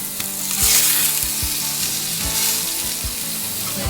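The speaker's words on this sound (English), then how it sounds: "You want to cook the spice side down first to kind of sear it on there to make it the blackened" Spice-rubbed salmon fillets sear spice side down on an outdoor fire disc, giving a loud, steady sizzle with repeated metallic scrapes and clanks of a spatula.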